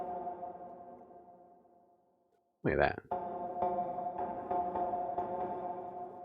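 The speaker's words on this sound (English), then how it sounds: "wavy up on the bottom, fuzzy on top. Let's see what that sounds like for us as we FM our little sine wave here." A synthesized sine wave under frequency modulation gives a steady tonal drone, wavy low down and fuzzy up top, then a brief sweeping burst and a fuller buzzy tone; someone talks over it.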